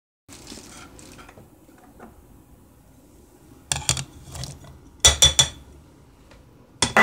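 Stew ingredients of meat, celery, baby carrots and potato are dropped into a crock pot, with soft clinks and a few louder clunks of pot and lid in a quiet kitchen.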